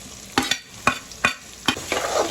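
Garlic and ginger frying with green chillies in oil, four or five distinct stirring scrapes against a low sizzling bed, close and moderately loud.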